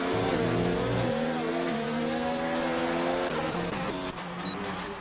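F1 race cars in the F1 2019 game scream past in a tight pack approaching a chicane, several high-pitched engines overlapping, shifting and droning loud and steady with no talk.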